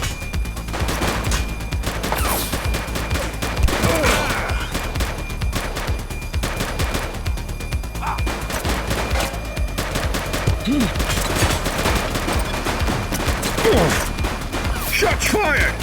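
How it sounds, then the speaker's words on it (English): A shootout with police in the video game The Precinct brings dense, continuous gunfire, with rapid overlapping shots and bursts at close range that stay loud and steady throughout, under a busy, noisy backdrop. "Shots fired!"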